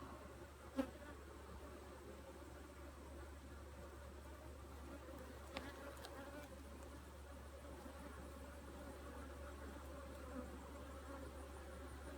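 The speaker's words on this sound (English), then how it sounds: "they're buzzing around, but they're not like buzzing meanly" Honey bees buzzing around an open beehive being inspected, a low continuous hum with occasional faint knocks, no voices.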